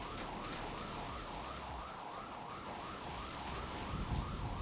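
Police car sirens wail in a fast, steady rising-and-falling cycle, moderately distant and fairly faint, set against a broad rushing background noise, with no speech.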